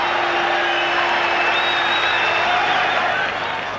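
Boxing arena crowd cheering and applauding after a right hook lands on Hamsho in the Hagler vs. Hamsho fight, a loud, steady wash of claps and shouts that holds level and tapers slightly at the end.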